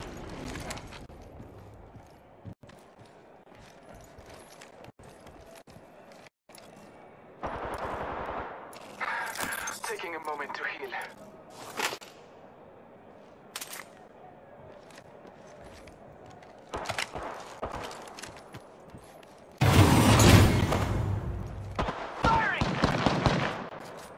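Bursts of rapid gunfire in an Apex Legends match, with a Peacekeeper shotgun in play, crackle in scattered volleys, some sharp and close, others thinner and farther off, with a heavy loud burst of fire near the end.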